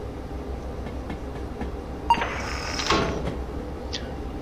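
Freight cars rolling along track in the train game Derail Valley, a steady low rumble with metallic clanks and a squeal or two rising midway.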